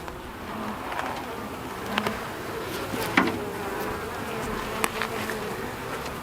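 Honeybees from an opened feral hive make a dense, continuous buzz at close range, broken by a few short louder bursts as single bees pass near.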